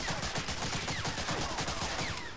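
Rapid gunfire in the World War II shooter game Medal of Honor Allied Assault, a continuous burst of overlapping shots like a machine gun, loud and sustained for a couple of seconds.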